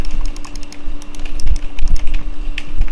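Fast, uneven clicking of a computer keyboard under steady typing, with close, sharp keystrokes and a faint constant hum behind them.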